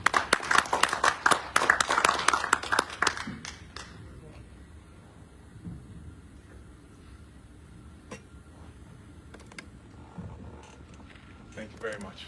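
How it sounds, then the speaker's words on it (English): Meeting attendees give a short burst of close, lively clapping that lasts about three seconds, then fades into a quiet room with only occasional small rustles. "How about a big round of applause?"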